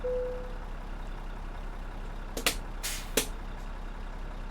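A Mack R truck rolls along in American Truck Simulator under a low steady engine drone, with a short tone near the start and a few sharp hissing bursts, like air brakes or releases, around two and a half to three seconds.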